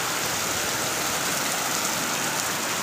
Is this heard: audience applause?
no